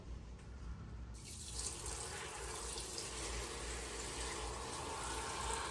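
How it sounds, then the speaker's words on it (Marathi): Water pours steadily into a pressure cooker for chicken biryani after a brief quiet start, a continuous splashing rush that holds at an even level to the end. "आता हे बघा पाणी पण मी मोजूनच टाकते"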